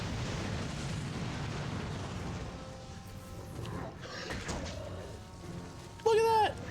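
A goblin's thrown rocket explodes in the fantasy video game Dragon's Dogma, a loud rumbling blast with crashing debris that trails off, then a brief whistling tone near the end.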